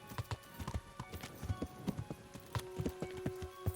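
Horse hooves in the video game Kingdom Come: Deliverance, a quick steady clip-clop of a galloping horse with rhythmic thuds continuing throughout at close range.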